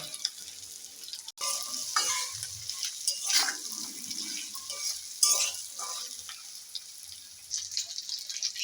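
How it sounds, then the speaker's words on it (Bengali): Fried potatoes go into a sizzling pan of cooked-down spice masala, a soft frying hiss broken by a sharp clack and scattered scraping stirs, fairly quiet and close with no talking. "এবার ভেজে রাখা আলুটা দিয়ে দিলাম।"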